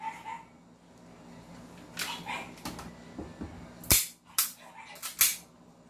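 An airsoft gun fires several sharp snapping shots in quick succession during a chronograph test, loud and close, with faint voices and background noise in between.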